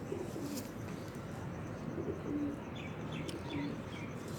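Soft, low coos of a golden-cross male pigeon repeat several times amid a dense background of bird chatter and ambient noise.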